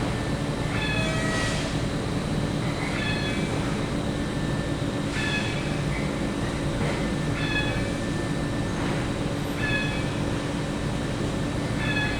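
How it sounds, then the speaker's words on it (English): Brick factory cart rolling along rails toward the kiln and dryers, a steady low rumble with intermittent high squeals and screeches recurring throughout, no talk. "Now the cart moves towards the kiln and dryers."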